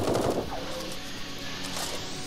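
Automated turrets fire in the sci-fi survival video game Eden Star, a rapid, moderately loud burst of gunfire followed by continuing scattered shots and mechanical noise in the background.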